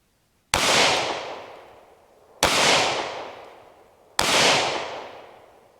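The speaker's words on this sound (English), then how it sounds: "Still shooting good. I like that gun. 45." Three loud, sharp handgun shots from a .45 ACP pistol, evenly spaced about two seconds apart, each with a sudden crack and a long echoing decay outdoors, with no talking.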